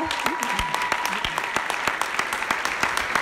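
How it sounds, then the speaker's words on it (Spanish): A crowd at a business presentation applauds those who attended the previous day's VIP session, a dense steady clapping with sharp individual hand claps standing out, while a voice carries on over it. "quiero que den un fuertísimo aplauso a los que estuvieron ayer en el VIP"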